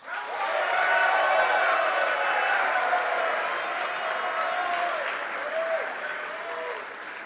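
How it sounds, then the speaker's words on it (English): Sustained audience ovation at a university athletics awards show, with dense, steady clapping from a large crowd swelling quickly and holding, slowly fading near the end amid some faint cheering. "who got the biggest ovation earlier, so why wouldn't we do it again"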